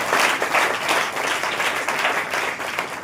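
A church congregation claps in praise during a Saturday worship meeting, a steady rhythmic run of clapping that fills the whole stretch at moderate loudness.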